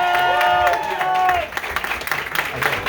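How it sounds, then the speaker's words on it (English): A comedy club audience claps and cheers for a contestant coming to the stage, the applause mixing with a held musical tone that fades out, while crowd noise continues loudly. "Keep that applause going, ladies and gentlemen, for your next contestant coming to the stage right now."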